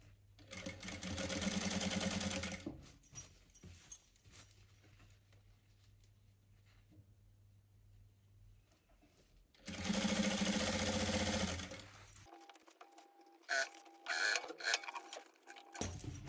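An electric sewing machine stitches lace onto a velvet kurti in two fast, loud runs, with quiet handling of fabric and faint clicks between them.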